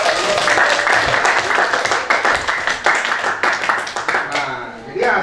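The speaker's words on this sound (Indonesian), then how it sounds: "Tepuk tangan buat kalian ya" A classroom of students claps for their group's work in a lesson, brisk and uneven hand claps from a small crowd with voices talking over them, fading and scattering near the end.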